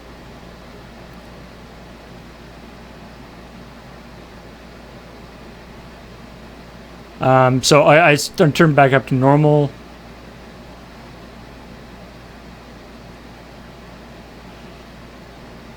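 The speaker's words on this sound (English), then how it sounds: "the kind of white noise that the air conditioner puts out" Steady broadband hiss from a room air conditioner runs unchanged through the whole stretch, with a short burst of speech in the middle.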